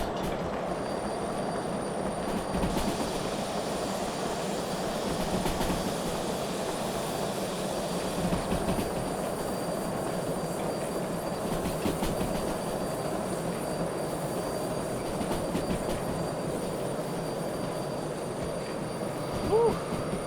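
A locomotive in the train simulator game Derail Valley runs fast with the throttle wide open, giving a steady loud rumble and rolling noise with a faint high whine that continues the whole time.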